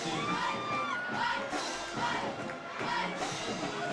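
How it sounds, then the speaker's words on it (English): A football crowd and cheerleaders at a high school game, Pleasant Grove Hawks against Rusk Eagles, yell and cheer in a steady, loud roar that rises and falls, with whoops and shouts over a dense background. "Definitely starting to hear the band getting the crowd and cheerleaders riled up."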